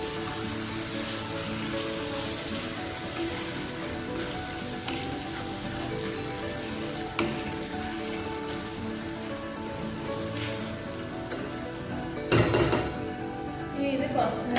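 Tomatoes and spices sizzle steadily in a pan while being stirred for chicken biryani, a continuous crackling hiss broken by a few sharp clanks of the spoon against the pan.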